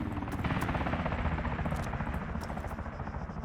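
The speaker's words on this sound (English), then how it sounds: "So this helicopter" A helicopter in the video game Arma 3 drones as a steady, fairly quiet rotor roar with a fast, fluttering pulse running through the whole stretch.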